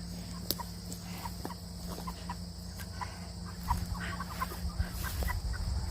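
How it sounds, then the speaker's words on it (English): A Bielefelder rooster gives low clucks and soft throaty calls near the recorder. Scattered taps and other soft poultry sounds can be heard over a steady background hum, growing a little busier toward the end. "This is my Bielefelder rooster."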